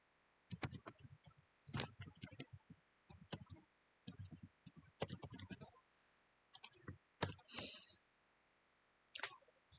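Typing on a computer keyboard while coding in Python: quiet bursts of rapid key clicks with short pauses between them, and occasional louder single key strikes.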